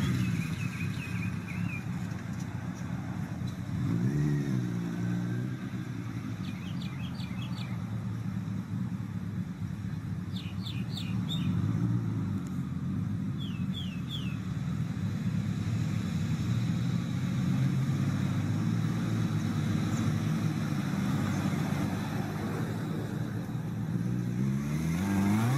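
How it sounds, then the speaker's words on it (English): Homemade three-wheeled vehicle built from a motorcycle and a car cab, a steady droning engine running continuously for the whole stretch with occasional revving, moderately loud, with faint chirps in the background. "This self-made vehicle is created from a motorcycle and a cab from a car."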